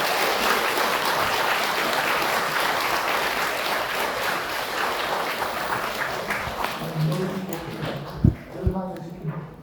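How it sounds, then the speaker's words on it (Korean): An audience at a Catholic parish lecture applauds a priest with sustained, dense clapping that fills most of the stretch, then thins out near the end as a voice begins speaking. "신부님께 다시 한번 큰 박수"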